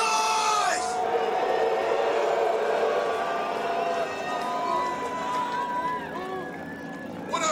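A large crowd of Juggalos at an outdoor rally at the Lincoln Memorial, cheering and screaming in a loud sustained roar with scattered whoops and shouts, starting right after a shouted call from the stage and fading slightly toward the end.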